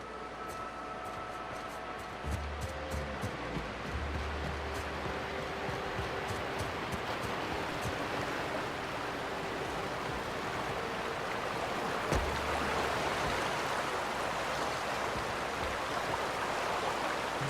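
Steady broadband rush of a waterfall in a video game, a constant, moderately loud wash of falling water with a few faint tones and clicks over it, without any talk.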